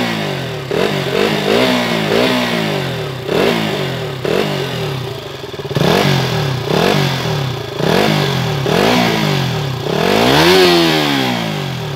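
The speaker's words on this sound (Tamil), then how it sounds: "இப்போ இன்ஜின் சவுண்டு வந்து நீங்கள் கேட்டு பாருங்கள்" A KTM Duke 200 BS4 motorcycle engine is revved repeatedly, about ten sharp blips that rise and fall with a raspy exhaust note, close and loud with no talk.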